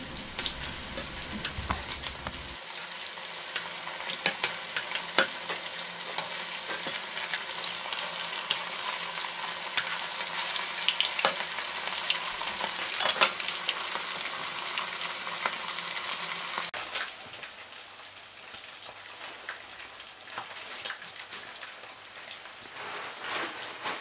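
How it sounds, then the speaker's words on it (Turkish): Dense crackling and bubbling of battered anchovies frying in hot oil, steady and close, then quieting to a softer sizzle near the end. "balıklarımız bitene kadar kızartma işlemini uyguluyoruz arkadaşlar"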